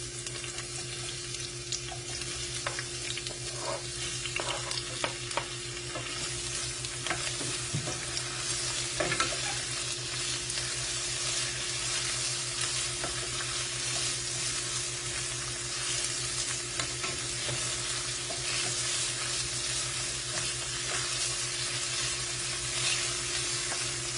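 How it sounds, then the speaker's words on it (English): Onion and half a pepper sauteing in olive oil, a soft constant sizzle with occasional stirring scrapes under a steady low hum, no talking. "I'm going to go ahead and put that in my olive oil and saute it."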